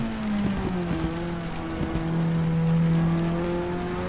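Simulated 2-liter BMW race car engine in GTR2 droning steadily at sustained revs around Brands Hatch, with a brief dip and gear change early on, loud and continuous with no talk.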